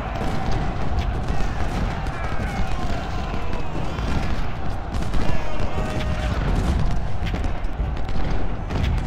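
Massed cannon and musket volleys in Ultimate General: Civil War at Fredericksburg, a dense continuous roar of overlapping gunfire and booms, loud throughout with bursts swelling and fading.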